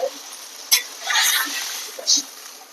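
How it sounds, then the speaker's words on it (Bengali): Water goes into a pan of fried taro being cooked with katla fish, setting off a short burst of hissing sizzle that fades, followed by a second quick sputter, close and fairly clear. "এবার কচুর মধ্যে দিয়ে দেবো জল"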